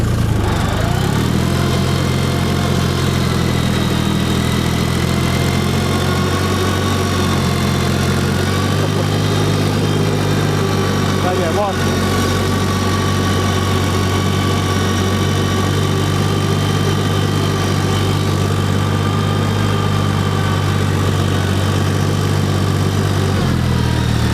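A tractor engine runs steadily in low range and third gear while ploughing, a loud, continuous near drone with a low throbbing hum that holds throughout without speech.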